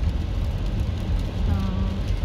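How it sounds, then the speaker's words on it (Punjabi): Heavy rain drums steadily on a car roof, a dense continuous wash heard from inside the parked vehicle, loud and even with no clear speech. "ਮੀਂਹ ਕਾਫੀ ਤੇਜ਼ ਆ ਰਿਹਾ ਸੀ"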